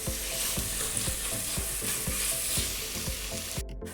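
Masala spices sizzling and frying in a hot pan for spicy Kerala beef vindaloo, a steady loud crackle with regular stirring scrapes every half second or so, close up, with no talking.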